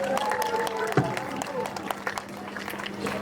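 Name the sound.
applause for the poets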